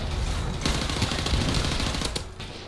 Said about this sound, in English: This is terrible shooting.